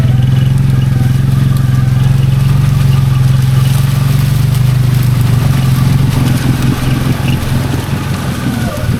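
A Can-Am Outlander XMR 700 ATV drones loud and steady as it churns through thick swamp weeds. The engine note stays constant, with rustling and splashing at the end.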